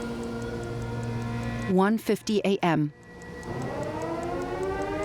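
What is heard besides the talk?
air raid sirens at Pointe du Hoc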